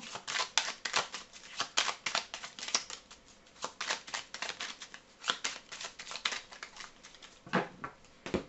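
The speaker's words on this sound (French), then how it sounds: "Allez, je mélange encore une fois pour ce mercredi 22 septembre 2021." Fortune-telling cards are shuffled by hand in quick, irregular bursts of crisp riffling and slapping, close and clear with brief pauses between handfuls and no speech.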